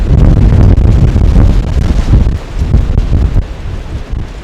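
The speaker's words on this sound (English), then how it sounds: "Have I mentioned how windy it is?" Strong wind outdoors at an off-grid cabin, roaring and buffeting the microphone in a loud, continuous rush with gusty swells and no talking.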